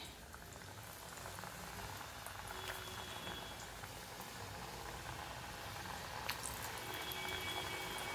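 Jowar flour kodubale rings frying in a pan of hot oil, a steady, dense bubbling sizzle that runs unbroken and fairly close, with no talk over it.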